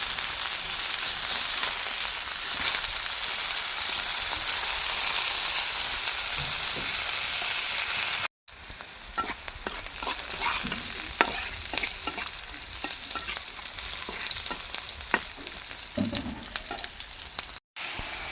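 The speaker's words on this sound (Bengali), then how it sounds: "এখন কিন্তু মাছ ভেজে নিচ্ছি।" Prawns fry in a pan, giving a loud, steady, close hissing sizzle at first, then crackling and spattering with scraping stirs and utensil taps after a brief cut, continuing to the end.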